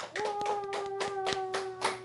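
A group at a Bible school seminar claps in unison, a steady rhythmic beat of about seven sharp claps over a held sung or hummed tone.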